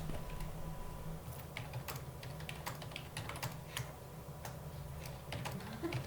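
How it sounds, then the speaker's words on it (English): Rapid, light clicking of a computer keyboard being typed on during a game developer livestream, an irregular patter of keystrokes with a few sharper taps, faint and close-miked over a low steady hum. "the typing"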